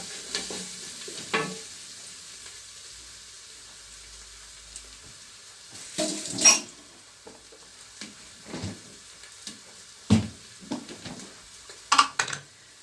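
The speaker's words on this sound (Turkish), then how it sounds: "Karıştıralım arkadaşlar" A wooden spoon stirs tomato paste into a pot of green lentil soup, giving a few soft scrapes and gentle sizzles spread unevenly over a quiet background, with no talking.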